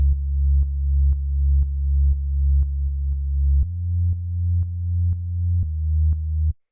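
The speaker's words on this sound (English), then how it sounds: "After that we have this analog bass, which sounds like this." Analog synth bass notes from a lo-fi house track sound alone and clean: a smooth, deep tone pulsing in even repeated notes, shifting lower midway and again near the end before cutting off.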